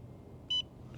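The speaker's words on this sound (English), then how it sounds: "I like this model because it beeps and everything too." A short single beep from an HF antenna analyzer signals a finished calibration, clear and moderately loud over a quiet background hum.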